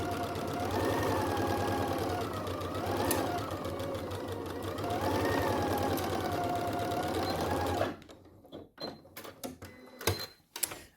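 A sewing machine runs steadily, stitching a shorts side seam at a 1 cm seam allowance, loud and close for about eight seconds before stopping, followed by faint handling clicks.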